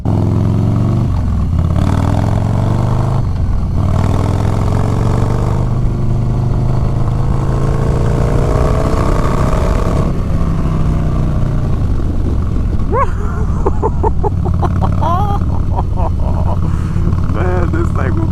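Harley-Davidson Low Rider S motorcycle under hard throttle, a loud continuous engine drone with rising harmonics as it pulls away, heavy wind rumble throughout and a rider talking over much of it.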